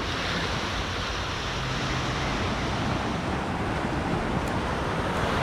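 Ocean surf on a Thailand shoreline, with waves washing ashore in a steady, loud, unbroken rush of broadband noise and some wind buffeting the microphone. No voices are heard.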